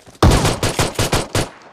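Shotgun gunfire in the PUBG Mobile video game: about six sharp, loud blasts in quick, slightly uneven succession, each with a short ringing tail, and no voices.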